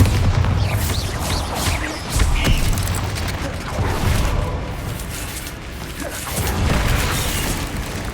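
Spell explosions from the Hogwarts Legacy video game, heavy booming blasts and bursts in quick succession amid game combat noise, loud and continuous with several distinct impacts.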